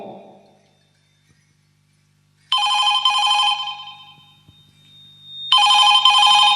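A telephone rings loudly in two long trilling bursts separated by a quiet gap, close and clear with no talking during the rings.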